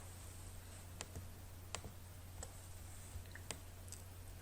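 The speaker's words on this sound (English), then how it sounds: "Click on JDK and we click on Geo." A computer mouse clicks on a software download page: a handful of sharp, isolated clicks spaced irregularly, quiet against a steady electrical hum.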